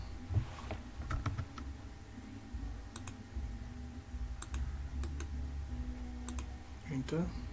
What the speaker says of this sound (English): you can type on your keyboard UCS